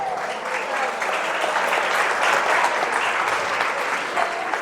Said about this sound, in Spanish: Bien por los maridos, un aplauso.